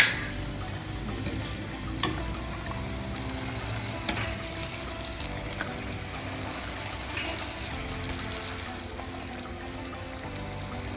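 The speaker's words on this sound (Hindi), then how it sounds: "ये ऑयल बिल्कुल गर्म हो उसमें डालिएगा। अब इसको हम फ्राई करना शुरू करते हैं।" Bhatura dough deep frying in hot oil, a close, steady bubbling sizzle that holds throughout with a few small splashes and clicks.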